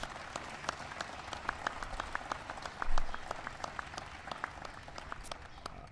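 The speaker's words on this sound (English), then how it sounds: "give him a big round of applause" Audience applauding at a White House ceremony honoring the NASCAR Sprint Cup champion, steady scattered clapping from a room-sized crowd heard at moderate distance, with a brief louder swell midway.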